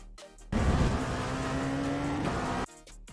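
An LMP2 prototype race car laps Road America in the iRacing sim, its engine a loud, sustained drone at steady pitch that cuts in abruptly, holds for about two seconds, then drops away.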